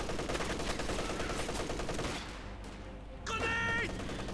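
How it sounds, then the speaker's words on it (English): An MG-34 heavy machine gun firing in the Company of Heroes 2 war game: loud, dense rapid bursts for about two seconds, then a brief lull before a sharper sound cuts in. "MG-34 heavy machine gun."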